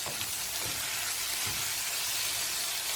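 Onion and long beans sauté in a pan for a tamarind curry, giving a steady, loud, close sizzle that runs unbroken from start to end. A few faint stirring scrapes sit under the hiss, and no one speaks.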